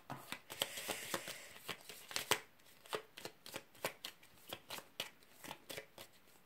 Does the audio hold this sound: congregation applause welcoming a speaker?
no